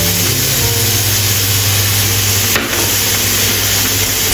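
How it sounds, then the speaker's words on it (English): Mushrooms stir-fried with coriander in a hot pan give a loud, steady sizzle and hiss, with the crackle holding continuously throughout and a brief clatter of the utensil partway through. "Stir-fry evenly."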